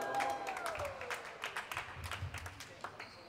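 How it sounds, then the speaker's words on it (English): Spectators applaud after a rally in a quarterfinal volleyball match, scattered clapping at moderate distance under a commentator's voice. "Nice side out there for Martell, getting some love from the crowd."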